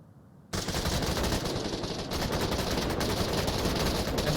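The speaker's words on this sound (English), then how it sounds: "Battle of the LMGs occurs." Sustained light machine gun fire in the VR shooter Onward, a loud, dense stream of rapid shots that bursts in abruptly and keeps rattling without pause, with overlapping fire from more than one gun.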